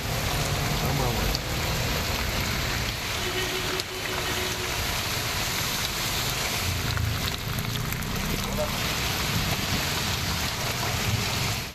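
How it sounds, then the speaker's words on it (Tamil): Heavy rain pours down during a thunderstorm, a dense, continuous hiss and patter that stays loud and steady throughout, with no pauses or break in the downpour. "இடிமின்னலுடன் கனமழை பெய்தது."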